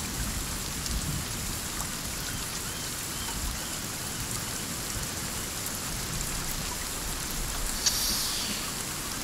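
Steady, heavy rainfall in a survival video game forest, a constant dense hiss of drops on surfaces with a faint rumble underneath and a brief higher blip near the end.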